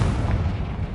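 A Confringo blasting spell explodes in Hogwarts Legacy as a loud, low booming burst that fills the whole second.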